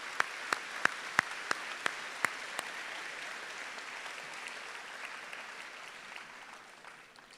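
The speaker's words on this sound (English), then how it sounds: "Please join me with a round of applause." A graduation ceremony audience applauds in a broad, steady wash of clapping. A few sharp, close individual claps stand out early on, then the applause thins and fades toward the end.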